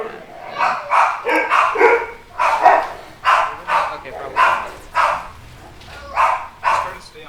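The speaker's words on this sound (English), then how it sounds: "I don't know why the dogs are upset at me." Indoor dogs bark repeatedly in an irregular series of sharp, loud, close yelps and woofs, with a voice speaking briefly over them.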